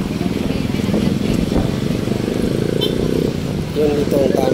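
Motorcycle on a road near a traffic light, its engine rumbling steadily up close with mechanical clatter, while people talk over it.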